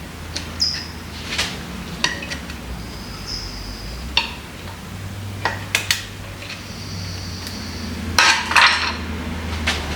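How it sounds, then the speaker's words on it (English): A thrust bearing is worked loose from a Kurt milling machine vise during a rebuild, giving scattered metallic clinks, taps and scrapes of steel parts at close range, with a brighter cluster of clatter near the end. "I'll pop the bearing out here in a sec."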